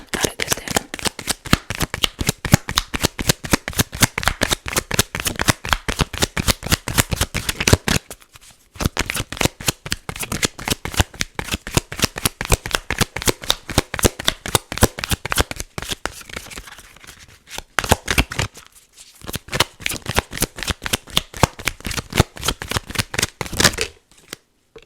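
Oracle cards are riffled and shuffled in a dense, steady run of crisp slaps and flutters, close and clear, with two brief pauses between bursts and no talking.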